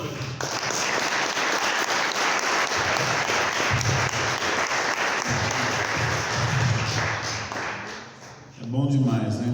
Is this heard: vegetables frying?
no